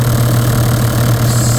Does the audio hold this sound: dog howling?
no